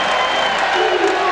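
Arena crowd at a 1991 Notre Dame at Indiana college basketball game cheering after a steal and score, a loud continuous roar with clapping and a voice talking over it.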